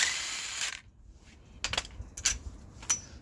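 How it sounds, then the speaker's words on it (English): Ratchet wrench loosening a bolt on an engine being separated from its transmission: a burst of clicking, then a pause, then a few sharp metallic ratchet strokes close by. "Take out the bolt."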